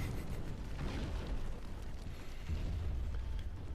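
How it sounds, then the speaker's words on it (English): Explosions rumble in the naval strategy game Windward, a dense, steady low roar of blasts with no talking over it. "All of them explosions."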